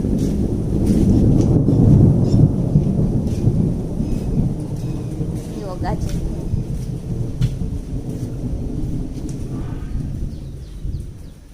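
A deep rumble of thunder rolls loudly, then fades into a lingering low growl with rain falling in the background.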